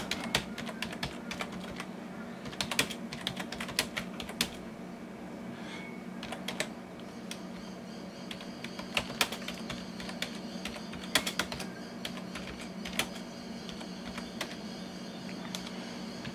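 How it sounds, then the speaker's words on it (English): Steady typing on a computer keyboard, a continuous run of close, crisp key clicks with irregular rhythm and occasional louder strikes over a faint steady hum, with no talking. "I can't type very well at the best of times, but boy, typing around a keyboard's not easy"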